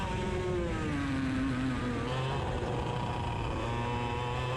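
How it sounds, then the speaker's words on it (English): A race kart engine on a new track labours low and strained in the wrong gear through slow turns, a steady droning rasp with shifting pitch that stays loud and close throughout, no talking. "you can just kind of hear the cart really struggling on the slower turns"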